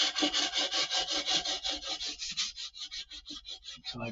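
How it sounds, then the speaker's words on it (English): Frets on a guitar are sanded at the edges with 1000 grit sandpaper in quick, even back-and-forth rubbing strokes, close up and steady, with no talk. "Now I'm going to use the 1000 grit sandpaper. I'm going to hit it this way"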